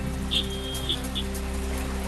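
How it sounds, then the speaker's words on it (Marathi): Heavy rain falls over Dhule city as a dense, steady hiss of drops on surfaces, with a constant low hum underneath and a few faint chirps. "धुळे शहरामध्ये पावसाला जोरदार सुरुवात, अचानक आलेल्या पावसानं नागरिकांची तारांबळ"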